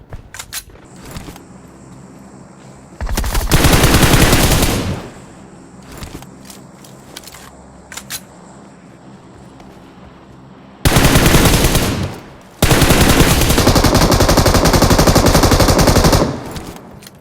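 Gunfire in a battle royale video game, with scattered single shots and clicks followed by long, loud bursts of rapid automatic fire, one around the four-second mark and two longer bursts near the end.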